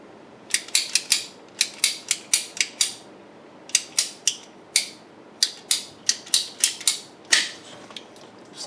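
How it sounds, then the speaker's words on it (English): A pipe cutter snips through a transmission hose during an inline transmission filter installation, giving a series of sharp, close ratcheting clicks in irregular clusters, with no talk. "Let's get my pipe cutter."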